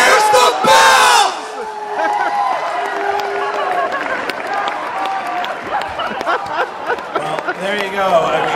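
A live Movie Trivia Schmoedown crowd bursts into loud shouting and cheering, then keeps up a dense roar of voices, whoops and claps for several seconds, with people talking throughout.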